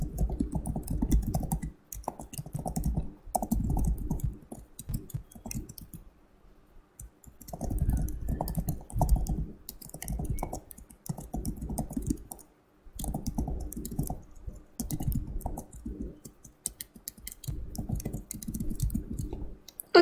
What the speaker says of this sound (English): macam tu je kita nak type kita punya coding